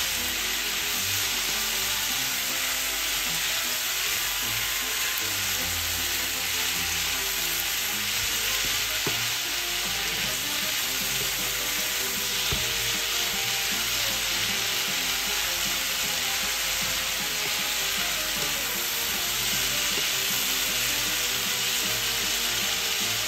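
Bitter melon (ampalaya) sautés in a pan with a loud, constant sizzle, joined by occasional stirring scrapes and clinks, with no talking.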